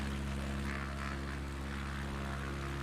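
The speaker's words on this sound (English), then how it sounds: "Because our engine is just slowing down." A simulated propeller aircraft engine in Microsoft Flight Simulator 2020 running at full power while losing speed, a steady, dense droning roar with a strong low hum that holds unchanged throughout.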